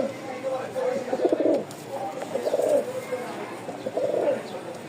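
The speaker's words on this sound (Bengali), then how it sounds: "প্রচুর ডাক। সব কবুতর তো ডাকে না" Pigeons, a Rajshahi flying breed, coo in three repeated, throaty bursts, fairly close, with a steady background hum between the calls.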